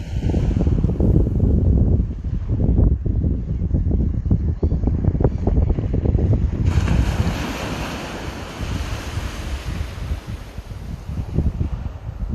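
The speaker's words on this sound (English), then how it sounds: "It's still windy, so hopefully you can hear me." Strong wind blows across the open landscape of the Isle of Lewis, buffeting the microphone in loud continuous gusts that ease slightly in the second half, with no voices.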